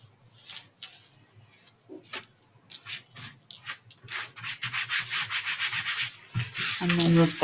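Repeated hand rubbing across the material of a hardcover journal cover, heard as dry, scratchy strokes that start soft and sparse, then grow louder and quicker, ending with a brief tonal sound, close up with no talking.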